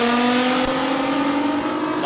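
A naturally aspirated Datsun drag car accelerates down the strip at an Australian sports compact drag racing event, giving a loud, steady high-revving engine drone for a couple of seconds.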